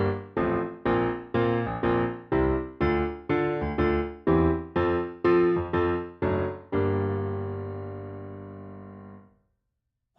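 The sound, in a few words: piano playing a song in shuffle rhythm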